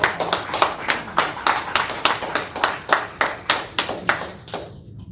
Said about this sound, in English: just give us a round of applause